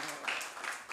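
A church congregation claps hands in a brief burst of applause, close and fairly loud, with voices mixed into the clapping.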